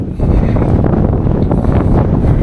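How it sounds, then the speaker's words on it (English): Cold wind gusts steadily across an open farm field, buffeting the microphone with a loud, continuous low roar and no pauses. "that wind is cold, man"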